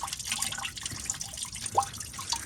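Coolant draining from disconnected thermostat hoses on a BMW E90, a faint, irregular trickle and drip of liquid falling steadily, with no voices.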